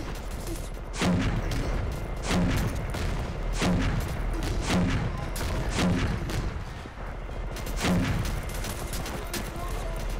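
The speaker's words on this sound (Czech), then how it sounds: "oni jenom naštvaně střílí do dveří." Gunfire in the video game E.Y.E: Divine Cybermancy, angry shots fired at a door, sharp blasts spaced roughly every second or so over a constant rumbling background, with people talking over the shooting.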